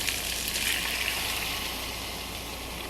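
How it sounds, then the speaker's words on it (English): Hot water pours steadily into a pot of soaked rice seasoned with salt and chicken bouillon, a continuous soft gushing stream heard close and alone, fairly quiet throughout. "And then add the water."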